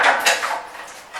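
A spoon lifted out of a pot of sheer khurma, a sweet milk and vermicelli dish, giving a few quick metallic scrapes and clinks against the pot's rim over about a second.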